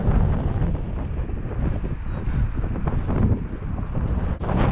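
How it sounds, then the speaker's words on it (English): Outdoor wind blasts across the microphone on a trail, a loud, steady, rumbling buffeting that swells and dips without pause. "I don't know if you can hear me with the wind."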